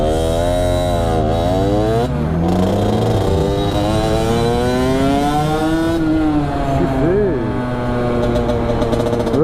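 A Sherco motorcycle with a damaged exhaust idles and revs nearby, its engine note rising and falling in repeated swells, loud and continuous throughout.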